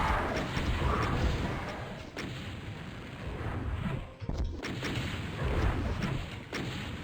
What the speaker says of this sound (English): I like using the rocket launcher from here